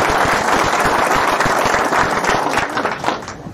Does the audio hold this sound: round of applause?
yes